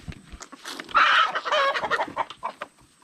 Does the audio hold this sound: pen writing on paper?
no